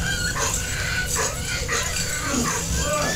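Dog in the video game Valiant Hearts yelping and whimpering in short high cries spread across a few seconds, set against a steady low game hum with a faint voice now and then.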